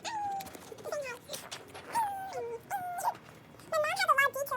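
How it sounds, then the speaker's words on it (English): A pet dog gives soft, high whimpering whines in several short bursts, close by, with people talking in between. "That's my dog. He's saying hi."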